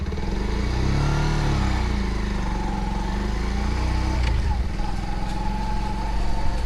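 A Bajaj Pulsar 125 motorcycle with a BS6 engine hums steadily while being ridden, a continuous engine drone with road noise running throughout, loud and close, rising slightly near the end.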